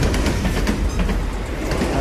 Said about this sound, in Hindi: और ये देखो एयरपोर्ट की ट्रेन